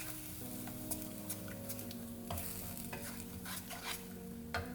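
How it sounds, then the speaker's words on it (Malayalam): Tomato puree sizzles softly in a pan while a spoon stirs it, with light scrapes and taps at irregular intervals over a quiet cooking hiss. "നമുക്കിതിലേക്ക് നമ്മുടെ ടൊമാറ്റോ പ്യൂരീനെ ഒഴിച്ചു കൊടുക്കാം. നന്നായിട്ടൊരു 10 മിനിറ്റ് ഇളക്കിയിട്ട് നന്നായിട്ട് കുക്ക് ചെയ്യാം."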